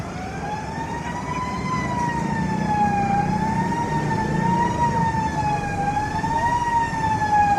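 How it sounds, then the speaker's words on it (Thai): A fire truck siren wails continuously in slow rising and falling sweeps, loud and steady over rumbling traffic noise, at a market fire in Nong Muang, Lopburi, Thailand. "ครับรถดับเพลิงทยอยมาครับ"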